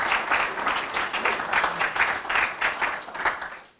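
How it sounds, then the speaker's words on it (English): An audience at a North Haven State of the Town 2024 morning event gives a round of applause, steady dense clapping at moderate loudness that tapers off near the end. "let's hear a round of applause for everybody you see on this screen up here this morning"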